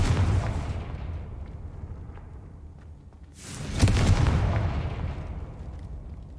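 Blasting spell explosions in the video game Hogwarts Legacy: a heavy boom at the start fades away, then a second loud blast hits midway and rumbles down slowly, with low crackling debris.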